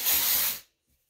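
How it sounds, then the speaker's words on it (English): A single short burst of texturizing hair spray from an aerosol can, a loud close hiss lasting just over half a second before cutting off into silence. "This isn't a hairspray. It's a texturizing spray."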